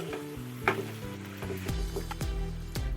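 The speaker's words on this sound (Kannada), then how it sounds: "ಇದು ನೀರೆಲ್ಲ ಡ್ರೈ ಆಗೋ ತನಕ ಚೆನ್ನಾಗಿ ಫ್ರೈ ಮಾಡ್ಕೋಬೇಕು." Chicken pieces frying in a pan until their water cooks off. A busy crackling sizzle runs throughout, broken by repeated scraping stirs and knocks of a utensil, close and with no talking.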